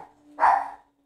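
A small dog lets out a single drawn-out howl that swells and then fades, close and loud, with no talking over it.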